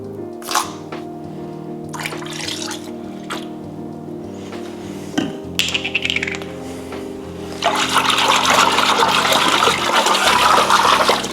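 Warm water runs into a sink for washing jeans, starting with scattered drips and clicks before a steady, loud gushing stream fills the last few seconds over a low hum.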